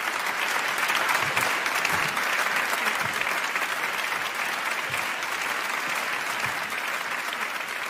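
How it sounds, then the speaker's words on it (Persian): An audience at a Ramadan Quran recitation gathering bursts into dense, sustained applause for a young child reciter, the clapping steady and crowd-wide for the whole stretch with faint voices beneath. "یه تشویق خوشگل دوباره بکنیدش"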